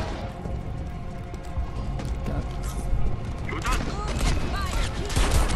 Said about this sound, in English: Oh, okay, they're all shooting.